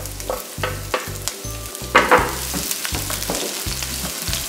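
Garlic and onions sauté in a pan with a steady sizzle and a couple of louder stirring scrapes around the middle, heard under rhythmic background music without any talking.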